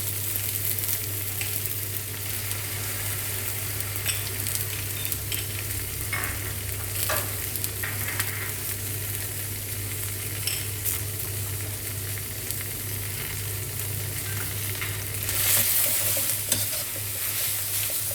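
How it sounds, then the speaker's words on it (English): Chinese broccoli sizzles steadily in a hot pan while being stir-fried, with a constant frying hiss and scattered scraping and clattering from the utensil. "Continue stirring and frying until the kana is wilted."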